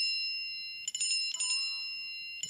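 Quiet, bright electronic dings from an iPhone sound in a few short bursts while the home and power buttons are held, one cluster rippling quickly, over near silence.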